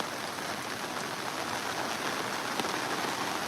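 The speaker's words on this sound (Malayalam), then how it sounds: "വളരെ പെട്ടെന്ന് തന്നെ ഒരു മഴ വന്ന് നമ്മളിവിടെ കുടുങ്ങിപ്പോയി" Sudden heavy rain pours down at an outdoor work site in Uzhavoor, a steady, dense, loud hiss of falling water with no let-up and no voices.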